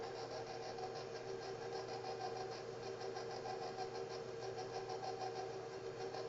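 A stand mixer fitted with the paddle churns gluten-friendly flax bread dough on speed 1, a steady, even motor whir with a faint rhythmic pulse, running alone and unbroken throughout.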